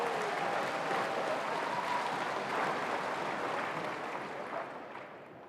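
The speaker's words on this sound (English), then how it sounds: "nice round of applause for Dr. Mayumi Fernandez." Audience applause fills an arena during a university volleyball match, Hawai'i versus UCSD, a dense steady wash of clapping that holds for several seconds and then begins to fade.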